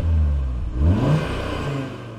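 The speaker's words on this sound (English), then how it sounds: "Let's hear this motor." A 2022/2023 Audi RS3 engine revs close by, its tone climbing sharply then settling into a steady idle, loud and with no voices.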